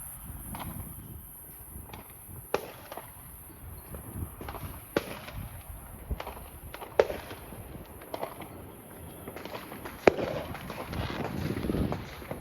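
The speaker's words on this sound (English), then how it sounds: "I don't know if y'all can see the fireworks, but I think I can hear them." Distant fireworks on the Fourth of July, scattered sharp pops and thuds spread across the stretch at irregular intervals over a low outdoor background, with a brief voice near the start.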